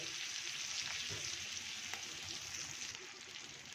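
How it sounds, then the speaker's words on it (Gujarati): Green chillies frying in a pan for a masala chilli curd fry, a steady moderate sizzle with occasional soft stirring scrapes, no talk over it. "હવે આપણે મરચાંને પલટાવી લઈએ"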